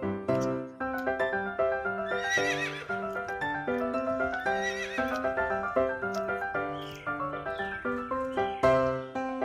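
A horse whinnies repeatedly in bright, rising bursts over a steady, busy background, fairly loud and close throughout.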